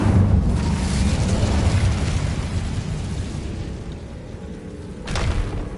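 Incendio fire spell cast in the video game Hogwarts Legacy, a loud whooshing burst of flame that roars and slowly fades, followed by a second sharp flare near the end.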